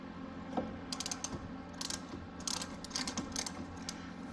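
A wrench ratchets in short bursts of clicking while turning a tow hook on a Shelby GT350 Mustang. The clicks are fairly quiet and close, over a low, steady background hum, and no one speaks.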